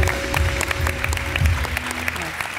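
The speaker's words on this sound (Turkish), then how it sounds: "büyük bir alkış alalım biz de" Studio audience on a Turkish TV talk show breaks into steady, loud applause for an actress, a dense continuous patter of clapping filling the room, with some voices mixed in underneath.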